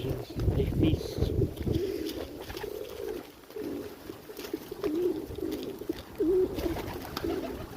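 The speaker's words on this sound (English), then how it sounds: "Many hungry pigeons. They feast." A flock of hungry pigeons feeding together, giving continuous low cooing in overlapping waves over faint background rustle and wind, moderately close.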